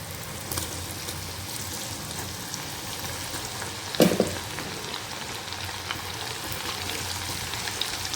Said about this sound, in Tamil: இப்போ இதை எண்ணெயில் பொரிச்சிடலாம். ஆயில் நல்லா ஹீட் ஆகிட்டுருக்கு.